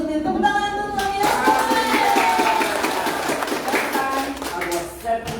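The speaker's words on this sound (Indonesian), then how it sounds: "Tepuk tangan untuk saya." Church audience claps for the pastor during a children's ministry gathering, a fairly sparse, rhythmic patter of hands with some musical tones and voices in the background, fading near the end.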